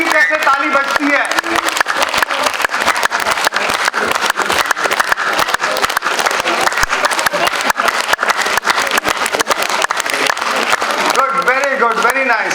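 A group of attendees at a motivational corporate training session keeps up rapid, continuous clapping, a dense, even patter from start to end, while a speaker's voice rises over it.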